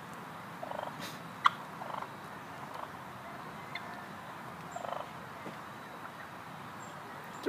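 Wild turkeys in New Jersey gobble faintly at a distance, scattered short calls over a quiet outdoor background with a few soft clicks.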